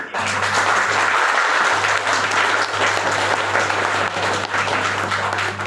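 A large audience claps loudly and continuously, dense applause filling the room without pause over a low hum.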